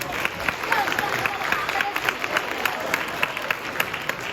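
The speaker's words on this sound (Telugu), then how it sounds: "పిల్లలందరికీ మరొకసారి గట్టిగా చప్పట్లు కొట్టాలి" An audience claps for children at a school stage event, a steady dense patter of many hands that keeps going under a busy hall with voices mixed in.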